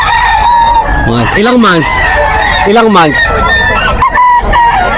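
Young roosters (stags) crowing at the Bocaue pet market, two loud close crows in quick succession amid clucking and busy market noise, with people talking nearby.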